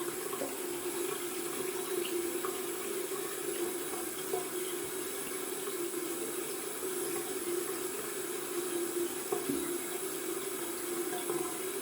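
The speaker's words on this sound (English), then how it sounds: "We're gonna rinse." Tap water runs steadily while soap base is rinsed, an even, constant hiss of flowing water at moderate distance with no talking.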